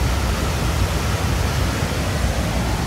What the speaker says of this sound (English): That's a powerful waterfall.